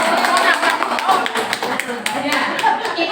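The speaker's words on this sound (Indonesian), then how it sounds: "Jadi tepuk tangan." Participants in a school discussion session clap their hands, a brisk round of clapping from a small group mixed with voices talking.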